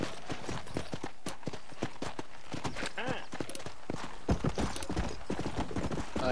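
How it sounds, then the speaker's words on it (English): Steady clip-clop of horse hooves while riding through the Red Dead Redemption game world, a quick rhythmic beat up close with other game sounds and speech mixed over it. "Here's my horse."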